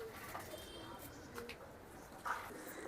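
Giribaz high-flyer pigeons, two new hens among them, give soft cooing calls at a low level, a few brief coos spread across a quiet, noisy background.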